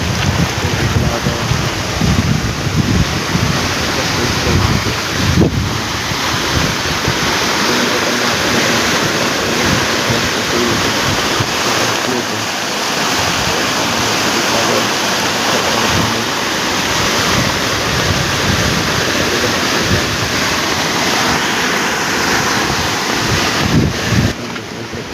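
Floodwater rushes steadily through a large drain in a flooded village, a loud, continuous roar of churning water with wind buffeting the microphone and no voices.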